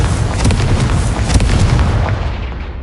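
Repeated Confringo fire-spell blasts in the Hogwarts Legacy video game, each a loud, booming explosion with crackling debris, running back to back in a dense, rumbling barrage that slowly fades near the end.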